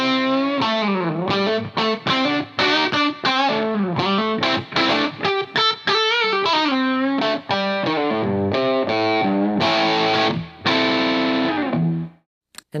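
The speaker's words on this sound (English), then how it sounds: "I can cut the drive down a bit and boost the level." Electric guitar through a distortion pedal at modest drive and high volume, strummed chords and riffs ringing out, then a final chord cut off.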